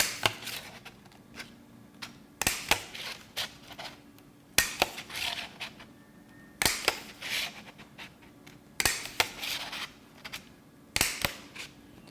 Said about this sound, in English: you're going to take the single hole punch and punch 6 holes evenly spaced